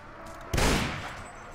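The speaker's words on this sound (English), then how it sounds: "I'll shoot at the men up there then, so I don't have to hit any of my men" A single loud musket shot in a Mount & Blade Warband mod battle, sharp close crack with a short rumbling tail fading over about a second.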